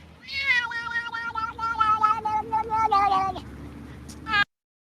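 A pet cat meows in a drawn-out, wavering run of cries that ends in a short final mew, close and fairly loud, with a faint low background murmur underneath.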